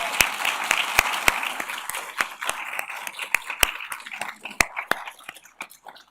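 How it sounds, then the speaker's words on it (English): An audience at a medical school physician assistant white coat ceremony breaks into sustained applause, a dense wash of many hands with sharp individual claps standing out, gradually thinning toward the end. "You can clap for them too."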